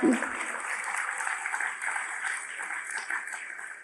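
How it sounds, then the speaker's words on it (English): Applause from an audience at a political speech, a steady wash of clapping that starts sharply and continues at moderate loudness, with some voices mixed in. "You can clap for that."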